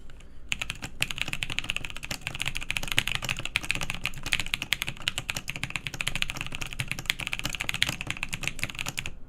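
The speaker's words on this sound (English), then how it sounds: "I haven't done a typing test in a long time, actually." Rapid, continuous typing on a CannonKeys Obliterated75 mechanical keyboard during a typing test, a dense stream of close, crisp key clicks running steadily for the whole stretch with no talk.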